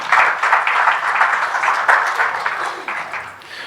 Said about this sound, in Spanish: Recibamos con un aplauso al doctor Eliseo Chirinos.